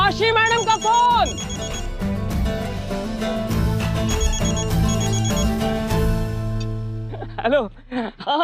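A loud electronic telephone ring repeats in quick patterned bursts over music, with a voice briefly speaking near the end.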